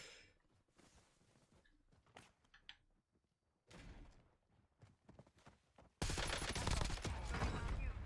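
Gunfire in the video game Call of Duty Warzone: scattered sharp shots and short bursts over quiet stretches, then a loud, sustained volley that fills the final seconds.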